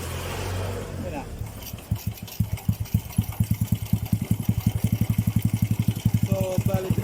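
A motorcycle engine idles with a steady, even chugging pulse after a brief noisy start, close and fairly loud, while someone working on the bike's signal light stays quiet and no one speaks.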